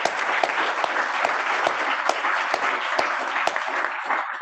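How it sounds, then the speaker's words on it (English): Kiwanis Club members applaud to honor long-serving members, a steady, dense burst of clapping with sharp individual claps punctuating the wash, sustained evenly throughout without talk. "Please give all of them a round of applause."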